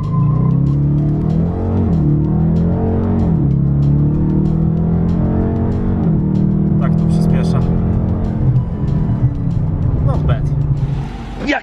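A Dodge Challenger T/A accelerates hard, its engine climbing through repeated rising pitch sweeps with gear changes, loud and close from inside the car, with a person talking over it.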